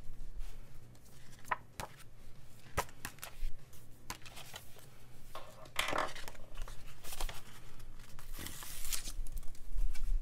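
Scissors trim a paper planner sticker, giving quiet, close, irregular snips and crisp paper rustles scattered through the stretch.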